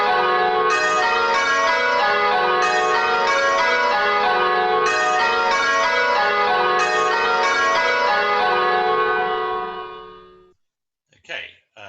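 A ring of church bells peals in a change-ringing sequence, rapid overlapping strikes in a steady repeating rhythm, loud and resonant, before stopping abruptly and leaving a brief trailing sound at the end.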